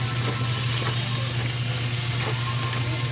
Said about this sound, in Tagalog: haluin natin ng maigi para magpakuluan ulit